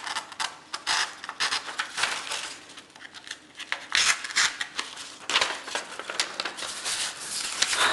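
Spyderco Delica VG-10 knife slicing repeatedly through material during an edge retention test, giving loud, close rasping and scraping strokes in an irregular rhythm with brief pauses between cuts.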